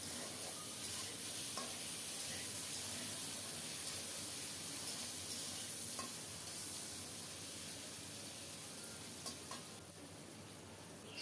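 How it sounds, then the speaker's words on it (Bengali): Potatoes frying in oil with black cumin seed in a pan, a steady close sizzle with occasional clinks and scrapes of stirring throughout. "আলুটাকে নেড়ে চেড়ে একটু লাল লাল করে ভেজে নেব।"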